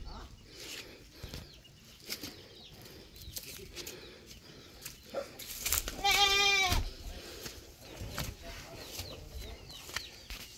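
Goats bleat on a rural coconut and banana farm in Aloguinsan, Cebu, Philippines, one loud nearby bleat standing out among quieter scattered calls, rustling and faint background voices.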